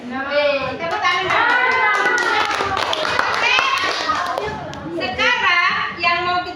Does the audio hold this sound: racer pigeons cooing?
no